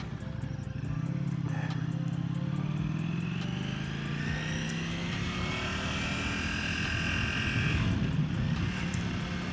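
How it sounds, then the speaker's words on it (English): A motorcycle engine rises and falls in pitch as it shifts through the gears while riding, heard from the rider's position under loud, constant wind rush with no talking. "I'm going through the gears, different modes, shifting properly, engine braking"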